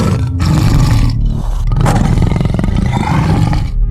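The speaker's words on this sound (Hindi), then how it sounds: "फिर बाघ गरजता हुआ नदी के किनारे से चला जाता है" Tiger roaring loudly and close, a deep rumbling growl sustained throughout with rising and falling swells, set by a riverbank.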